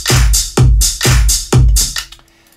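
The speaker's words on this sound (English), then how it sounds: "Then we had more hi-hats with more processing" Heavily processed drum pattern with EQ and envelope shaping, loud and punchy, repeating four strong hits with brighter hi-hat strikes between them, then trailing off.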